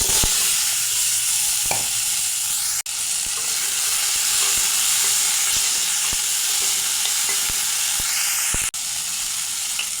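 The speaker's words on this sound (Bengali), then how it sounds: "এখন কেটে রাখা আলু ভেজে নেব" Cut potatoes fry in hot oil in a pan, a dense continuous sizzle that holds steady throughout, broken by a couple of brief sharp clicks.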